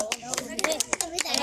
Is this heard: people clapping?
yes